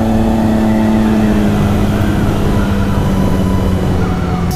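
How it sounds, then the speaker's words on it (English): A Honda Civic passes close by on the road, its loud, steady engine and tire roar filling the clip amid motorcycle riding noise, with no talking. "That's a nice Honda Civic."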